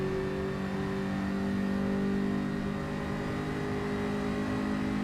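A Group 4 race car in Gran Turismo 7 runs at full throttle up a hill climb, a loud, steady engine drone with sustained harmonic tones and no voices.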